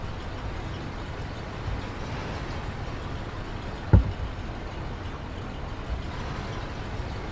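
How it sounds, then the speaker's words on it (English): A truck driving in the Battlefield game, heard as a steady low engine rumble and road drone throughout, broken once by a single sharp knock or clunk midway. "I'm gonna get in this truck. I'm gonna drive down there."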